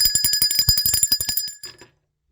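A bicycle bell rings in a rapid string of bright metallic dings, close and clear, then stops abruptly and fades to silence.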